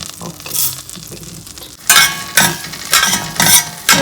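Cumin and coriander seeds dry-roast in a pan, a quiet stir giving way to loud, rhythmic rattling and scraping sweeps, about five strong strokes in a row.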